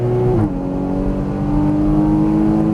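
Porsche Cayman GTS engine pulling hard under throttle on a racetrack, a steady loud harmonic drone that drops briefly at a shift and then climbs again, close and continuous with no talk.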